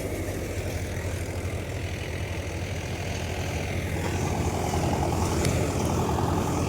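A Mahindra tractor with a loaded trolley idles with a steady, heavy engine drone that holds low and even throughout, growing slightly louder toward the end, with no voices.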